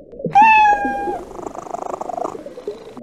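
A cartoon cat meows loudly in the I Spy Fantasy video game: one drawn-out falling meow, followed by a soft, rhythmic purring under quiet background music.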